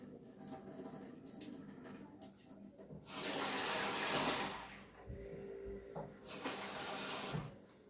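Food being rinsed in a handheld strainer under a running tap, starting as quiet trickling and then bursting into a louder rush of flowing water that comes and goes in spurts, nearby and without talk.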